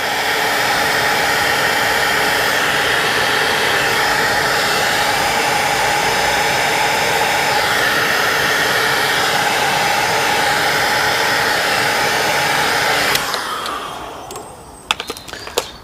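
A heat gun shrinks heat-shrink tubing over wiring on a 2003 Audi S3, blowing a loud, steady, close roar for about thirteen seconds before it cuts off, followed by a few faint clicks and handling sounds.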